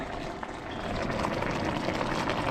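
Fish soup with kangkong boils in an uncovered pot, giving a steady, close bubbling and rolling simmer that grows slightly louder and runs on without a break.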